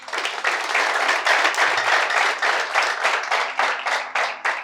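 Warm applause from an office audience at a coffee-time gathering in Addis Ababa, many hands clapping steadily for several seconds in rolling, slightly pulsing waves with no voices over it.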